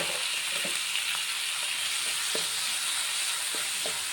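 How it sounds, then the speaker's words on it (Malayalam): Tomatoes and green chillies sizzle and fry steadily in a pan with onions, with soft scraping and clicking from stirring scattered across the constant hiss. "തക്കാളി ഒന്ന് വാടുന്നത് വരെ ഇളക്കി കൊടുക്കുക."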